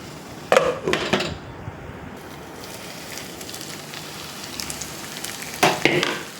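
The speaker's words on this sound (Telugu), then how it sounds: "చామదుంప ముక్కలు చూసారా ఎంత బాగుందో నూనెలో వేగుతుంటే ఆ ఫ్లేవర్ చాలా బాగా తెలుస్తుంది" Taro pieces fry in oil with spices for a tamarind curry, giving a steady low sizzle with a few louder bursts near the start and end, as if stirred, and no talking.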